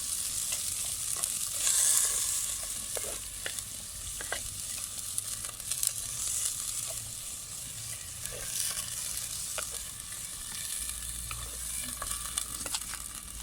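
Tomato and pepper paste cooks in a pot for Turkish dry bean stew, with a constant close sizzle and repeated scraping and clicking strokes of a spoon stirring through it.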